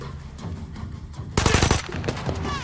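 Gunfire in the island survival shooter Ferocious rattles out as a rapid burst of close automatic shots, louder than the scattered distant pops before it, with no talk.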